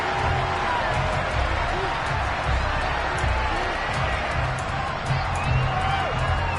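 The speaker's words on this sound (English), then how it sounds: "Plenty of shouts from this crowd as they watch the replay." Football stadium crowd shouting while watching a replay, a dense, steady roar of distant voices with scattered shouts and a voice talking over it.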